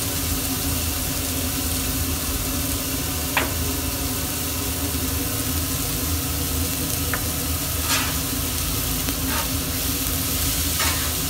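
Steady sizzling of kokoreç börek frying in a pan outdoors in the wind, with a constant low hum and an occasional faint clink, no voices.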